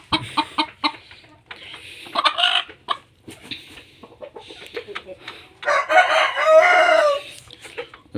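Tiger breed hens on a farm cluck and squawk in repeated close bursts, some loud and agitated, with a person speaking at times amid the flock.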